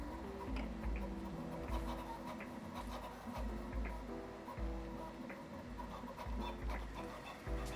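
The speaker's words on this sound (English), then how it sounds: "Printer is not too loud." A Prusa Core One 3D printer runs quietly up close, giving off soft ticking, rubbing motor hums and small rhythmic clicks over a low steady drone, with no voice over it.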